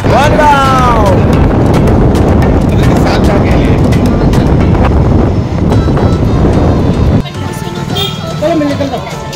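Loud, steady rumble of a moving train fills the clip, with wind buffeting the microphone, then the noise drops and shifts near the end.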